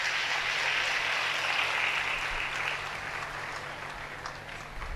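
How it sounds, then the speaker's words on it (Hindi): Audience at a spiritual gathering applauds a newly announced organisation president with sustained, even clapping that fades slightly toward the end, heard alone at a moderate distance. "बहुत जोरदार तालियां इनके लिए"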